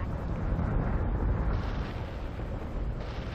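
A base star explodes in the space combat game Battlestar Galactica Deadlock, a dense, sustained low rumbling blast that fills the whole moment at steady loudness with no voices.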